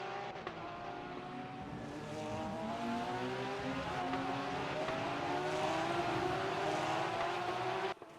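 Race cars at the Spa-Francorchamps circuit roar in a loud, continuous engine drone whose pitch climbs steadily as they accelerate, with several engines overlapping throughout.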